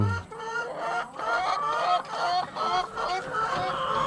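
A broody hen in a nesting box, wings arched and puffed up, gives a steady run of close, loud clucks and grumbling calls, with other poultry sounding faintly behind.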